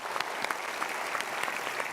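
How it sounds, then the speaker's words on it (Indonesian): A studio audience on a talk show applauds, a fairly soft but continuous patter of clapping with scattered sharper claps, lasting the whole time. "kita berikan tepuk tangan untuk mereka."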